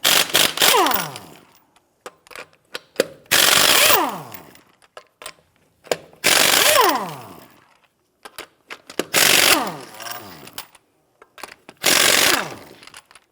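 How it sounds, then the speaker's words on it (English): Power tool bursts loosen the 21mm lug nuts on a 1992-1996 Toyota Camry wheel, five loud, close impact-wrench runs of about a second each, separated by short pauses and clicks, with no talking. "Use a 21mm socket to go ahead and loosen and remove the lug nuts."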